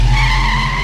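A taxi braking hard to a stop on a Delhi street, tires skidding in a loud, sustained squeal that fills the short moment up close, with no voices over it.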